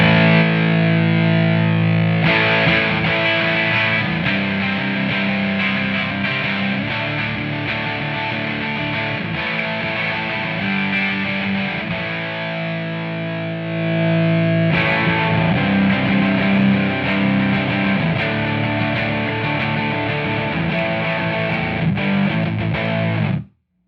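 Heavily distorted electric guitar through a Big Muff fuzz pedal and Marshall amp plays sustained, thick fuzz chords, loud and continuous, with a brief shift midway and an abrupt stop at the end.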